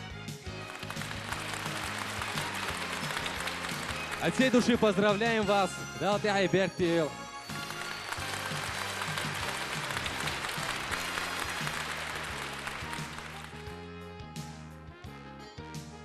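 Audience applause at a song festival for a lyricist rises under a host's voice, with music playing alongside; the clapping stays steady and crowd-wide, then thins out toward the close.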